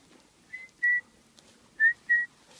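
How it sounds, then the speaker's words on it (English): A dog-training hunt whistle sounding four short, shrill blasts in two pairs, fairly quiet against a near-silent outdoor background. "So what I don't do is I don't just put the hunt whistle on as the dog comes into the area."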